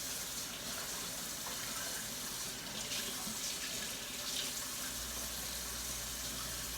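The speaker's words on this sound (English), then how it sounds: "I'm going to turn some water on." Water runs from a sink tap while a makeup brush is washed under it, a steady, close splashing stream that continues throughout with no speech.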